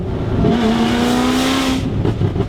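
A 920-horsepower Corvette ZR1 engine revs loud and close, a harsh rising roar that holds high for about a second before dropping back to a rumbling idle.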